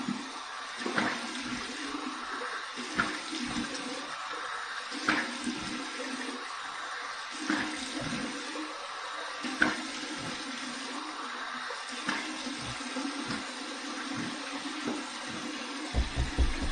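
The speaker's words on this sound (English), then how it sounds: "All right, here's my cold water rinse." A tap runs a cold water rinse after a shave with a double-edge open comb razor, a steady near rush of water with occasional splashes of hands and face throughout.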